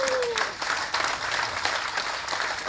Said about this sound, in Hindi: अगर भरोसा है तो एक बार जोरदार तालियों से हाथ दोनों ऊपर करके बजाएं